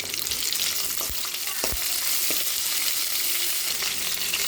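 Mustard seeds, fenugreek, curry leaves, garlic and chillies sizzle in hot oil with a dense, steady crackle and occasional pops and stirring clinks, close and without talk.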